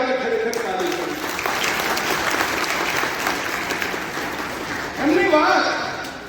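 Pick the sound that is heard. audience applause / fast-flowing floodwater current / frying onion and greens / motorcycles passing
audience applause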